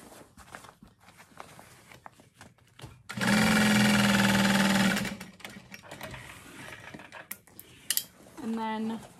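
Sewing machine stitching the bottom seam of a handbag, one loud steady run of about two seconds, then a brief short burst, amid soft handling clatter and quiet room noise.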